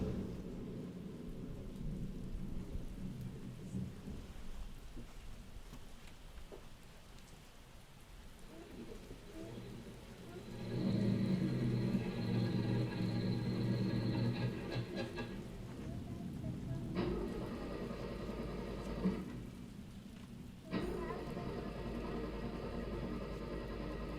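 A thunderstorm sound effect plays during a Halloween puppet show: steady rain pours while deep thunder rumbles swell and fade several times.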